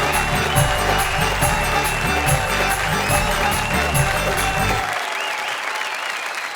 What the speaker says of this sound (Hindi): आइए तालियों की घनघोर बारिश कर दें